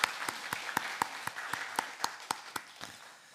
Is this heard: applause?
yes